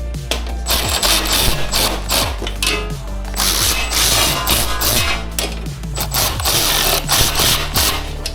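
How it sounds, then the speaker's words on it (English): A ratchet wrench loosens the nut under an electric scooter seat, giving loud, close, rapid clicking bursts with short pauses between strokes, repeating over several seconds. "Just find the bolt, find the nut under there. Just loosen it a little bit, couple turns."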